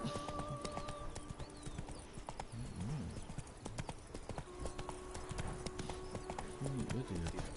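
A horse's hooves clip-clop in a steady rhythm in the Witcher 3 video game, close and clear, with game music and voices underneath.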